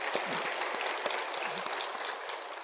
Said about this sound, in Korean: 예수님께도 영광의 박수를 드리겠습니다.